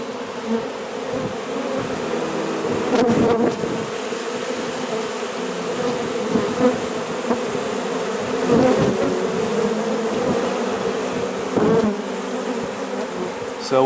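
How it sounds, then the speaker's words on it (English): Honey bees buzz steadily during a bee tree trap-out, a dense close swarm drone with louder swells as individual bees pass near, continuous and alone without voices. "But you'll see these bees are really gentle."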